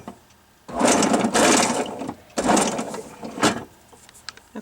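A small rotary tool grinds away the burr on the back side of a hole drilled in a silverware piece for jewelry, in two whirring bursts of about a second each followed by shorter touches.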